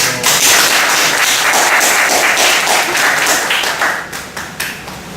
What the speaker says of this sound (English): Let's welcome Dr. Robert Menzies with a big round of applause